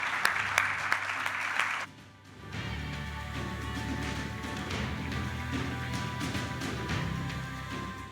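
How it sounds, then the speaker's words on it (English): A steady wash of audience applause at an engineering innovation prize final event in a hall, with a brief dip before the clapping swells again and continues evenly. "another round of applause for her"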